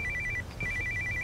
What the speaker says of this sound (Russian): срочный звонок от